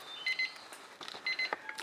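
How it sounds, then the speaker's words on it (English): A kitchen timer goes off with two quick bursts of rapid high electronic beeps, close and fairly clear, with faint background noise between them. "the timer is going off while I'm talking to you"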